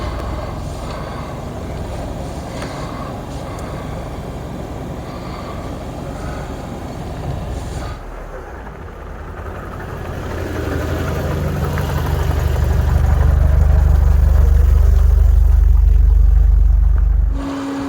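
Mercedes 190E engine running steadily, idling then swelling into a louder, deeper rumble as the car rolls forward over a phone laid on a piece of carpet on the floor.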